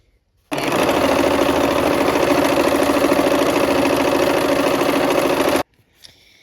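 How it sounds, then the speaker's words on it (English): A sewing machine stitches brown fabric rectangles onto quilt window pieces, running loud and close in one unbroken, rapid mechanical whir for about five seconds before stopping abruptly into near silence. "we're gonna go ahead and sew some brown rectangles onto those windows as well"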